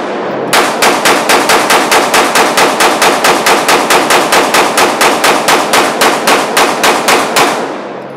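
Rapid string of about thirty loud, evenly spaced gunshots fired from a Palmetto State Armory Dagger pistol, each crack sharp and close, filling the clip with a steady rhythm.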